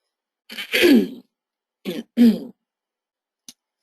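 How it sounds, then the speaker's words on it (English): A person nearby coughs and clears their throat in a few harsh bursts, separated by brief silences. "I'm just going to cough"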